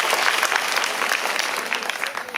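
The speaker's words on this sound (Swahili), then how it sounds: "Yusuf, tupige makofi." An audience at a school event for Rigoma Girls High School in Nyamira gives dense, continuous applause, steady and fairly close throughout.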